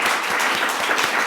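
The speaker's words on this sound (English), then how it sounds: "Please give a round of applause for our colleague and professor to many" An audience at a university classics lecture claps for the lecturer, giving a brief, dense burst of applause, close and full, with no voices over it.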